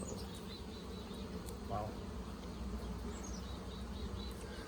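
Honey bees swarm over a hive frame lined with queen cells, a dense, steady buzzing drone that fills the whole stretch, with a brief exclamation from a person partway through.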